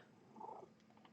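A cat purrs softly and close, a quiet brief rumble swelling for a moment before fading.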